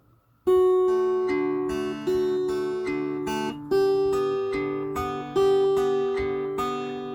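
A mountain dulcimer is fingerpicked in a forward roll pattern, bright plucked strings repeating a steady rolling cycle of notes over a droning low string, with the phrase restarting in periodic loud attacks.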